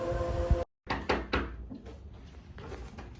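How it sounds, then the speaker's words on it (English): A few sharp knocks on a wooden door, spaced irregularly after a brief silence, sounding close and fairly soft, with no voices. "someone knocked on their door."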